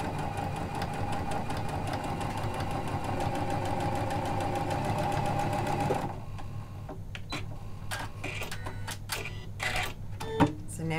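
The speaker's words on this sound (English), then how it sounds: "Then as we sew, it's going to roll over that front edge again, the raw edges, fold them all in for us," A Janome sewing machine with a lap-seam foot runs steadily in a continuous, even whir while top stitching, then stops, leaving scattered clicks and handling noises afterward.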